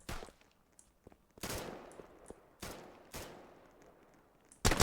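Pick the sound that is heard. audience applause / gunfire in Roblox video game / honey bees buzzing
gunfire in Roblox video game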